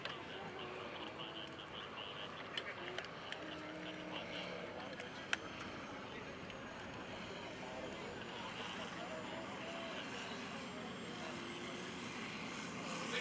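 A radio-controlled model airplane flies slowly at the 2013 New Garden Airshow, its engine a steady, distant drone under outdoor crowd noise and nearby voices for the whole stretch.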